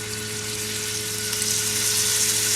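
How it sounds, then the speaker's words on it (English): Chicken pieces sear in a pan on high heat, making a steady, close, hissing sizzle that swells slightly and never pauses. "Hear that sizzling and searing? That's what we want."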